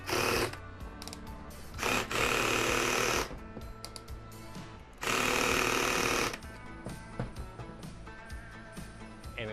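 A power driver runs a screw into a pre-drilled hole in wood, two loud sustained whirring bursts of driving with quieter mechanical handling and clicks between them, close up.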